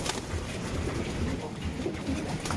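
Racing pigeons coo softly and steadily while pecking at paddy grain, a close, continuous murmur of low throaty calls with faint scuffling, and no voices.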